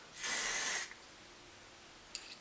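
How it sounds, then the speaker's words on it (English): Hairspray sprayed onto hair from a can, one close hissing burst lasting under a second, then quiet with a faint brief rustle near the end. "I'm gonna take some hairspray and just"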